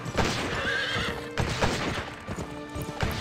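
A horse in a western video game whinnies loudly and its hooves clip-clop in a quick steady rhythm close by, with a second neigh near the end of the short stretch.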